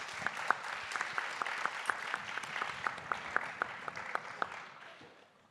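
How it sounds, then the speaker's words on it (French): Applause from an audience, a steady patter of many hands with sharp individual claps standing out, gradually fading toward the end. "Donc vous pouvez également l'applaudir."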